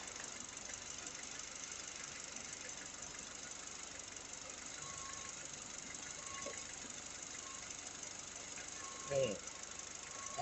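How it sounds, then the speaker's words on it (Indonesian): A car engine idles steadily while its power steering oil is flushed in a workshop, giving a low, constant mechanical hum with a faint metallic clink or two near the end. "setelah dirasa cukup, mesin kita matikan"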